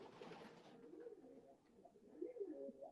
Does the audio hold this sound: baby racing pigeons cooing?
yes